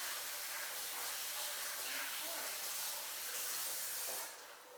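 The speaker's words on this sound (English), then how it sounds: "now I'm going to add a little milk and then I'll stir it up" Vanilla almond milk poured into chocolate zucchini bread batter, a steady close hissy splash lasting several seconds that fades at the end.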